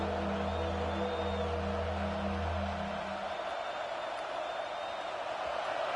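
Home crowd in a college football video game, Hurricanes against LSU, roars steadily as the defense tries for a third-down stop, a dense wash of cheering that swells and holds throughout with no voices on top.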